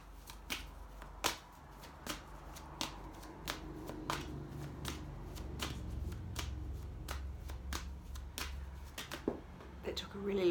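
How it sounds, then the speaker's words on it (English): An angel card deck is shuffled by hand, giving repeated crisp riffling and snapping bursts at an uneven rhythm over about ten seconds, close and fairly quiet, with a faint low background hum. "it's not very interesting to watch someone just shuffling cards with nothing much happening"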